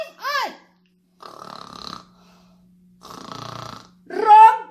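Snoring imitated by a voice in a children's story: rasping, drawn-out snores alternate with brief high squealy vocal sounds, close and clear, with short silences in between.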